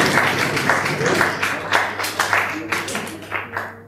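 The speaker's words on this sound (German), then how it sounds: "euer Applaus bedeutet mir so viel wie 10 Euro" An audience claps at a live café gig at a university, a rhythmic burst of applause that thins out over a few seconds.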